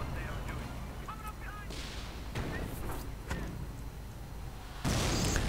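Mortar rounds firing and flying through the air in a World War II real-time strategy game with mortar half-tracks, heard as repeated dull booms and whooshes over a steady battle din, with faint voices in the mix.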